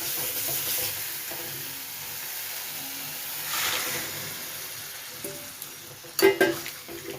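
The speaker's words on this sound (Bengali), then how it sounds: "এবারে পটল আর আলুটা দিয়ে দেবো এর মধ্যে।" Pointed gourd and potatoes added to a hot pan: a steady, moderate sizzle and hiss with stirring, then a few sharp clattering knocks near the end.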